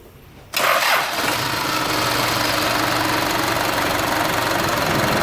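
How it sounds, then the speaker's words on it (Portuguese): A Toyota Bandeirante engine fires up abruptly and settles into a loud, steady running drone with a rough mechanical rattle as the driveshaft spins, close up and continuous with no talking. "O cardan tá rodando."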